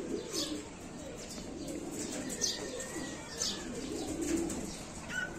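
A Sultan pigeon coos softly in a quiet enclosure, a few low repeated calls with faint chirps of other birds in the background.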